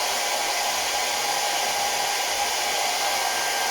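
A hair dryer blows steadily on wet paint to dry it, a loud, even broadband whoosh holding without a break throughout.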